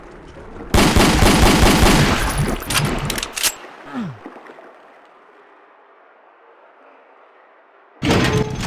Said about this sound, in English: See, this pistol is not perfectly accurate at long range.